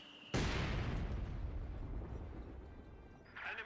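An anti-tank grenade blasts against a tank's rear armor in Company of Heroes 2, a sudden loud explosion that rolls into a long, slowly fading rumble, followed by a faint crackle.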